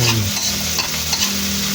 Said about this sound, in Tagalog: Lutuin lang natin itong kamatis.